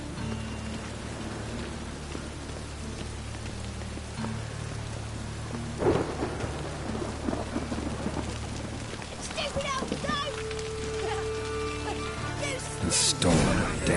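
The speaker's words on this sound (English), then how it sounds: "The storm, damn it." Thunderstorm with steady rain in a PS4 video game, a constant wash of rainfall under low rumbling, with a sharp thunder crack near the middle and another loud burst near the end.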